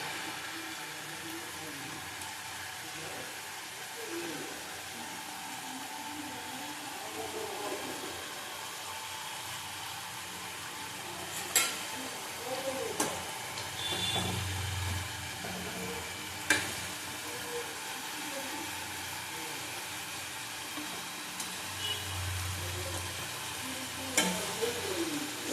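Katla fish curry gravy bubbling in a pan on the stove, a steady close simmering hiss with occasional clinks and pops of a utensil, no voices.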